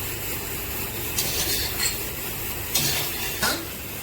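Half a cup of grated coconut roasting in a pan with reddened fried onions for a mutton curry, a steady soft sizzle broken by a few louder scraping stirs, close and with no talk.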